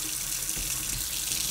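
Water runs steadily from a tap switched to hot while a boiler is being descaled, a continuous close hiss with a brief low gurgle partway through and no voices.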